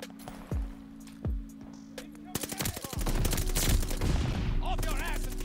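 Rapid automatic gunfire from a Call of Duty Vanguard match, a couple of isolated shots at first, then a dense sustained burst of fire with explosions and game effects, loud and close.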